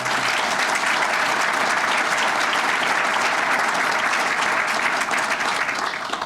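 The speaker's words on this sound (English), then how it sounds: "If we could give all of them a round of applause." Audience at an investors' conference evening welcome applauding a group of borough and county leaders, dense sustained clapping from a large crowd that holds steady and loud throughout before starting to thin at the very end.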